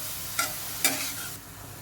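Grated radish stirred and sautéed in a pan, with two short scraping stirs standing out over a faint, steady sizzle, close and with no voices.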